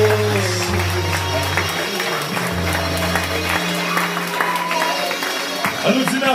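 A congregation at a Haitian worship service claps steadily and densely, the applause sustained throughout beneath loud music with low held bass notes and some voices.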